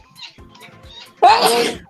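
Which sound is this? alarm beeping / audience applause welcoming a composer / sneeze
sneeze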